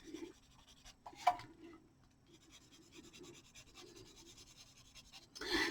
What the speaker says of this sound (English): I took this marker, which matches, and went around the edge of the paper